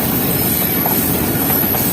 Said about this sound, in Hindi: दोस्तों इस वक्त ट्रेन पहुंच रही है अपने तीसरे स्टॉप पर, यानी कि हाफजाबाद रेलवे स्टेशन पर।